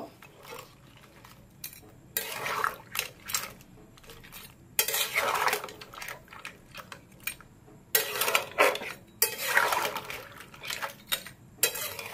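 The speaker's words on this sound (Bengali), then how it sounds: "এটাকে খুব ভালো করে এবার মিক্স করব।" Crab curry being stirred in a metal pot after the crabs are added, with repeated bursts of scraping and clinking from the spoon against the pot, loud and close, separated by short quieter gaps with faint sizzling underneath.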